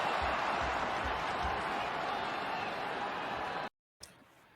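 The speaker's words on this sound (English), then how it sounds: "Listen to that crowd get jacked up when he's going off the field" A college football stadium crowd of Iowa fans roars steadily as an injured player leaves the field, a dense sustained cheer that cuts off abruptly near the end.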